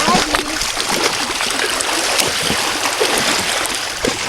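Water splashes and churns steadily at a lake as someone is dragged through it, a continuous rough wash with occasional louder slaps, with people talking over it.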